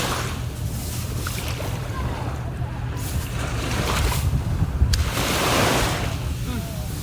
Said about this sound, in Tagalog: Dito kami sa beach.